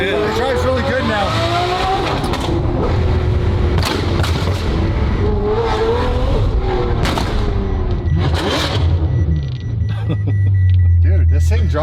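A Porsche engine revs hard with bursts of exhaust popping and roaring, loud and close from inside the moving car, while people talk over it.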